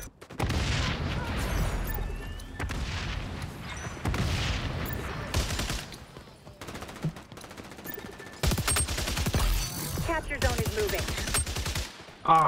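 1911 pistol fire in the shooter game XDefiant, dense rapid shots in long sustained bursts broken by short pauses, loud and close, with occasional talk mixed in.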